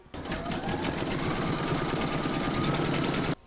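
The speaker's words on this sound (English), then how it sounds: "Pop it into your machine and stitch round number seven" An embroidery machine stitches an outline through vinyl taped over a hoop for an in-the-hoop dog pouch, giving a steady, fast, close mechanical whirr and rattle that runs unbroken before stopping abruptly at the end.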